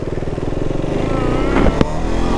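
A KTM RC 390 sport motorcycle with a 373 cc, 44 hp single-cylinder engine idles close by with a lumpy, pulsing rumble, then gives a short, sharp rev near the end.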